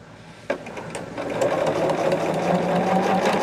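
Sewing machine stitching binding onto a large quilt, a steady close mechanical whirring with rapid needle rhythm that starts after a brief click and runs continuously.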